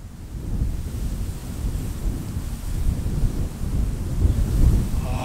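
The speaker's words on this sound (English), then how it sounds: "Casting headfirst into the wind, it absolutely sucks" Gusty wind buffets the microphone in a Southern Colorado mountain meadow during fly fishing, a loud, continuous low roar that swells and rises toward the end, with no other sound standing out.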